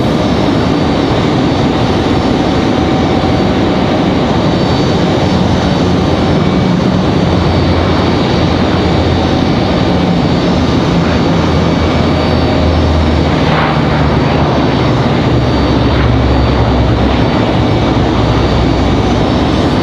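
An ATR 72 turboprop airliner landing at Raleigh-Durham International sends out a loud, close, continuous engine roar and rumble that holds steady throughout, with no talk.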